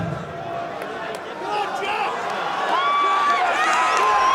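A large, loud fight-night crowd at the NIA cheering for MMA fighter Jack Marshman at BAMMA 11, a dense roar with whistles and shouts rising and falling beneath a commentator speaking.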